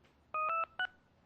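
A MIDI cell phone ringtone plays on a computer as a quick run of electronic beeps: three short tones in a row, a brief gap, then one more, alone and fairly clear.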